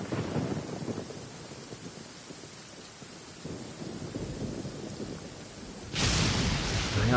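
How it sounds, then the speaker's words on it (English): Steady rain and a low rumble of thunder from the Genshin Impact game, with a sudden louder surge of rainfall near the end. "Rain!"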